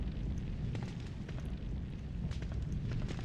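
Steady roaring blaze from a burning building in Resident Evil 3: Nemesis, a continuous dense crackle and rumble with scattered sharp pops, loud and unbroken throughout with no voices.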